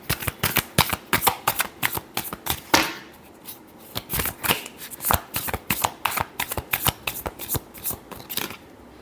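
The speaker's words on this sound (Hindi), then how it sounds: "Last shuffle." Tarot cards being shuffled by hand in a rapid run of crisp riffling snaps, with a short pause partway through before the shuffling resumes, close and clear with no talking.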